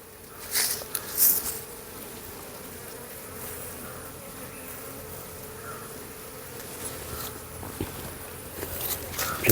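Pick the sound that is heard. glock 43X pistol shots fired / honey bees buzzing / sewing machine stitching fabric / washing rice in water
honey bees buzzing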